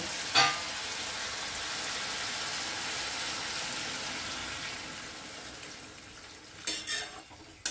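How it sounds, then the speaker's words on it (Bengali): Water poured into a frying pan of sautéed spices and winter vegetables, a loud, steady hiss of sizzling steam that fades slightly, followed by a few clinks of a utensil against the pan near the end. "এবারে এটা কষানো হয়ে গেছে, জল দেব।"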